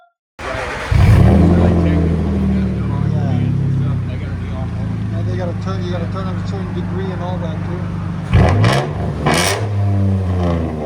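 A 2005 Nissan Frontier with a 4.0L V6 and straight-pipe exhaust starts up loud and close, holding a rough, throaty idle, then revs sharply near the end, while someone talks over it.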